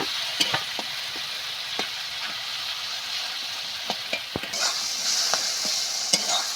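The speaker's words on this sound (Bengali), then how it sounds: "এইভাবে নেড়ে চেড়ে আমি খুব সুন্দর মতো ভর্তাটা তৈরি করে নেবো" Purul bhorta, a Bengali mash, being stirred and fried in a pan: a steady soft sizzle runs throughout, broken by repeated scraping clicks and taps of the spoon against the pan, close and fairly quiet with no talk.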